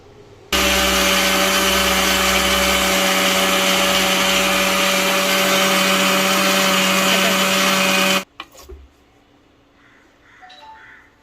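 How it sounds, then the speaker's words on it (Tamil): Mixer grinder blitzing soaked red rice into flour, a loud steady whining motor roar close by that runs for about eight seconds and cuts off abruptly, followed by a few faint clatters. "நம்ம மிக்ஸியில் வந்து அரைச்சி எடுத்துடலாம்."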